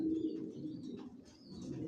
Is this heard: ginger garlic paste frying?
no